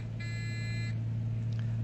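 Landing gear warning alarm in the DG sailplane in Flight Simulator, a steady electronic beeping tone that sounds for about a second and then stops, heard over a constant low engine-like drone.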